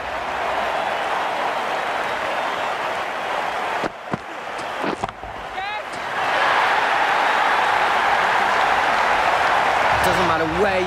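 A crowd roars in a cricket video game, a steady wash of cheering that dips briefly with a few thuds and sharp sounds before swelling louder again, while a commentator voice speaks over it.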